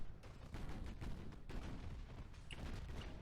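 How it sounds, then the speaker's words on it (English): Naval guns firing in the warship combat game Ultimate Admiral: Dreadnoughts during a convoy attack with a light cruiser, a steady rumbling fusillade of overlapping distant shots and booms at moderate level. "We just have so many shots going off."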